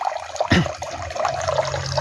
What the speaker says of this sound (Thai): หัวก๊อกที่อยู่ต่ำกว่า ก็จะได้น้ำที่มากกว่านั่นเองอ่ะเห็นไหม